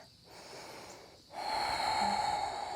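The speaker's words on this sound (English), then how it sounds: "One more deep breath." Deep breath during a yoga session: a soft nasal inhale, a pause, then a longer, louder breath with airy hiss, close and quiet, no talking.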